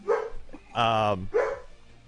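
A dog barks three times in a row, close and fairly loud, with the middle bark longer and more drawn out than the short yips before and after it. Nothing else is heard around the barks.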